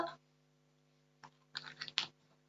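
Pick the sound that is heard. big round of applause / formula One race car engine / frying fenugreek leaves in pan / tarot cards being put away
tarot cards being put away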